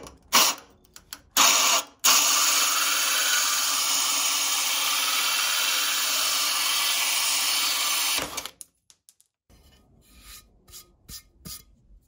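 A power drill whines steadily for about six seconds through wood while drilling into tile, preceded by a couple of short bursts, then stops, leaving scattered faint clicks and handling sounds.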